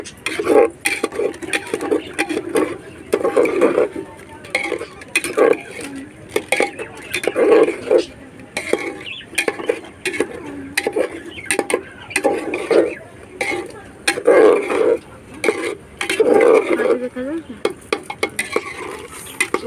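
Mutton curry with masala being stirred and mixed in a pot, with repeated scraping and clinking strokes of a spoon against metal in an irregular rhythm and faint sizzling underneath, loud and close throughout.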